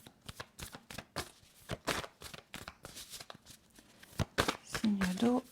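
Tarot cards shuffled by hand in a quick run of crisp riffles and flicks, fairly close and steady, with a brief voice joining near the end.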